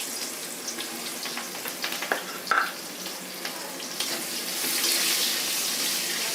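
Onions hitting hot oil in a pan for a Bangladeshi pangas fish curry, a soft crackling sizzle with a few clinks that swells into a steadier hiss near the end.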